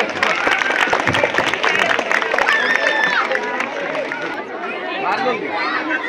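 A large crowd claps in sustained applause, dense and loud throughout, with chatter and voices mixed in.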